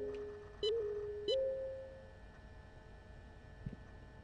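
A device in the puzzle game Device 6 gives a few short electronic beeps, two quick pitched tones that glide upward and then hold steadily before fading, over a quiet room-tone background.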